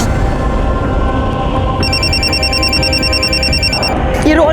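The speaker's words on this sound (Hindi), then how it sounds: "ये रोहन का फोन आ रहा है।" A phone rings with an electronic warbling tone for about two seconds, loud and steady above a busy rumbling background, then cuts off.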